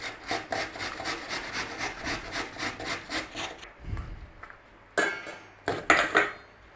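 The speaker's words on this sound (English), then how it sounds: "Grate your apple in there." An apple being grated by hand for apple cinnamon oatmeal bars, steady rhythmic rasping strokes close by, then a pause followed by a few louder scrapes and knocks.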